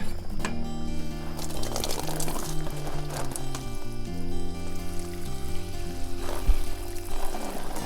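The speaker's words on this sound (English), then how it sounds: "the first thing I want to do is water it" Water pours steadily onto a potted food plant in a nursery for several seconds, a continuous splashing trickle with a steady tonal hum running underneath.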